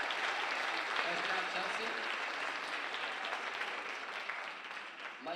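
Sustained, dense audience applause and cheering for a singer at the Guilderland Gold 2019 event, with a voice speaking briefly over the clapping.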